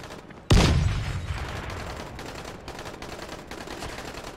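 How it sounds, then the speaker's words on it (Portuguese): Enemy gunfire in the video game Dying Light opens with a loud sudden blast, then trails into a dense, rattling stream of shots that fades slightly and carries on steadily. "Eu não sei de onde esses caras estão atirando, meu."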